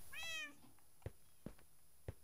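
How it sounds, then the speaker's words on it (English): A domestic cat gives a single drawn-out meow, fairly quiet, followed by three soft, sharp taps or knocks spaced about half a second apart. "Meow."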